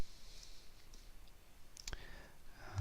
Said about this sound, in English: So you can then right click